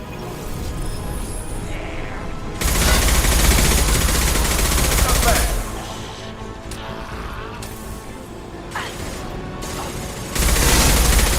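Heavy bursts of gunfire in the Mass Effect 2 shooter, loud sustained volleys with blasts, a quieter lull in the middle, then more firing at the end.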